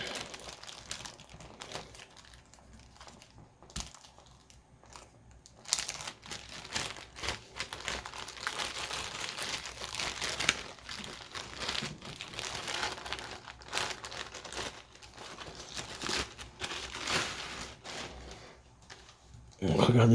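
A packaged France Loisirs edition of a Stephen King book being unwrapped, with irregular close crinkling and tearing of plastic wrap, and a voice talking softly underneath.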